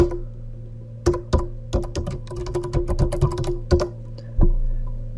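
Fingers tap on a computer keyboard in quick irregular bursts, crisp individual clicks with brief pauses between words, close and clear with no talking.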